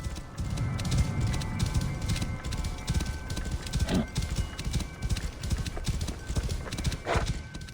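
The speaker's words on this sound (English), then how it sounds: "And we're riding now." Horse hooves clip-clop steadily at a riding gait in Assassin's Creed Origins, near and continuous, with a brief whinny-like cry and a game soundtrack or ambience underneath.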